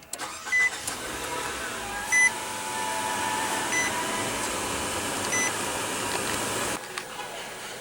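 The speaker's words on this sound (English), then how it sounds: "Just put your foot on the brake, hit the button to start." A 2015 Nissan Sentra with a 1.8 L four-cylinder starts from a push button: short electronic beeps, then a steady engine hum that settles into an even idle close by and cuts off near the end.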